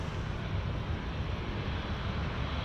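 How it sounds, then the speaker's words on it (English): Jet airliner rolling down runway 34 left at Sydney Airport at night, a steady broadband engine roar held at constant loudness throughout, heard from a distance with no voices. "Velocity rolling through here on runway 34 left."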